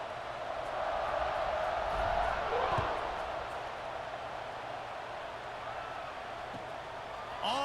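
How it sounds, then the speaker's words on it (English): Stadium crowd noise in the EA Sports College Football 26 video game before a kickoff, a steady broad roar that swells slightly around the two-to-three second mark, then holds at a constant level beneath the game atmosphere. "this crowd now ready to get behind them"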